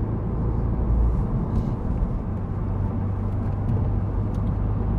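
Engine drone of a Mini Clubman driving out toward winding roads, a steady low rumble with road and wind noise that stays constant and fairly loud throughout, no talking.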